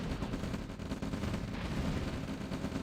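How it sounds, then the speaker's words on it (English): Yak aircraft strafing run in the real-time strategy game OpenRA Red Alert, a dense, continuous rattle of rapid gunfire with heavy low rumble, loud and sustained throughout without pauses. "but a good yak strafing run there."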